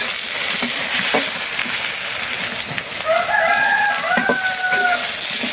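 A rooster crows once, a drawn-out call at moderate distance, rising over the steady hiss of oil frying eggplant in a home kitchen.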